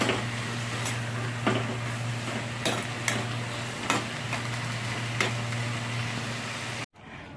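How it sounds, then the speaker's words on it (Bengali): Momo filling with turmeric being stirred and lightly fried in a pan, giving a steady close sizzle with a low hum and scattered sharp utensil clicks and scrapes at irregular intervals, no talk. "দিয়ে ভালো করে একটু নাড়াচাড়া করে হালকাভাবে ভেজে নেব।"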